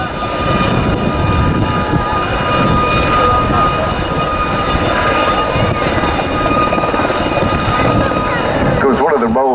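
Gazelle helicopters fly a display at RAF Cosford, their rotor and turbine noise a loud, steady whine and chop throughout, with a commentator speaking over it.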